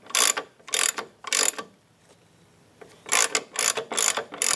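A ratchet tightening a 17mm bolt on the rear differential retaining plate of a 2002 Subaru WRX, clicking in quick bursts of three strokes, a pause, then four more, close and clear.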